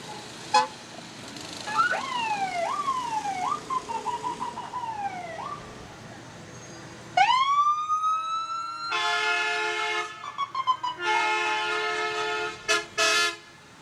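An ambulance from a regional EMS service passes in an autumn fall foliage parade, giving short wailing siren sweeps, then a loud rising yelp followed by sustained electronic horn blasts and toots, close and alone with no talk.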